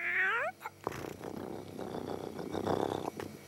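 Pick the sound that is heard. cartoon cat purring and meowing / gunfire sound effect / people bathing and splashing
cartoon cat purring and meowing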